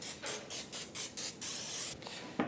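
Cooking spray is misted over a 9x13 baking dish in a rapid series of short hissing bursts, then one longer spray, close and clear with no talking.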